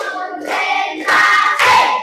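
A classroom of pupils claps along in a counted rhythm, the claps landing as a few loud, sharp group bursts spaced out over two seconds.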